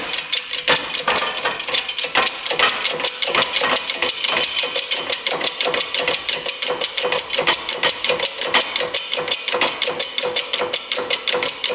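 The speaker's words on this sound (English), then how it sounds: "Let's press this crank in." A crankshaft is pressed into a dirt bike engine case with a steady run of rapid, evenly repeating mechanical clicks, close and loud, continuing without pause.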